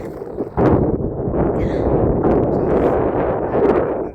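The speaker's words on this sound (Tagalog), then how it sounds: "Lakas ang hangin." Strong wind buffets the microphone in a loud, steady low roar with gusty swells, no voices present, outdoors in Bellinzona, Switzerland.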